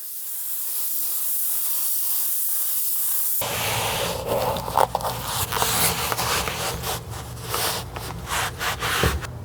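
Spray adhesive sprayed onto a car's floor tunnel during a carpet kit install: a soft hiss at first, then a louder, rougher spraying hiss in uneven bursts, close by, with no talk.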